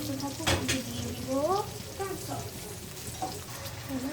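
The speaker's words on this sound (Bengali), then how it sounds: "এখানে সুন্দর মতো ভাজা হচ্ছে, এখানে সুন্দর মতো আমি ভাজছি।" Food frying in hot oil in a pan on a home stove, a soft sizzle under stirring and spatula scrapes against the pan, with someone talking intermittently over the cooking.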